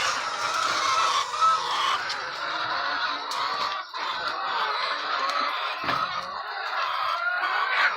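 Many chickens cluck at once in a busy, continuous chatter, fairly close and steady.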